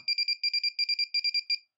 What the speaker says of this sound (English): when I select the middle position in that switch, it activates my buzzer